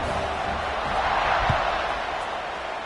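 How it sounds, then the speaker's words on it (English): Stadium crowd buzzing in an American football video game after a score, a steady loud roar of cheering with a faint thud, heard under commentary. "this crowd is buzzing after that last score"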